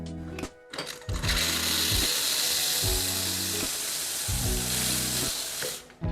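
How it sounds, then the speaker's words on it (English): Loud hissing burst of steam from a four-hole espresso steam wand, starting after a brief sputter and continuing steadily before cutting off, with a low pumping pulse underneath. "I need to first release the steam."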